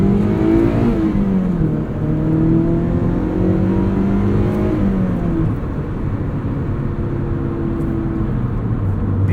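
A 2009 NC2 Mazda MX-5 Miata with a five-speed manual, driven with the roof up, its engine droning loud and close, rising in pitch under acceleration and shifting through gears over steady road and cabin noise.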